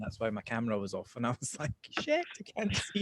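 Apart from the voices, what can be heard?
None of the usual background noises is heard.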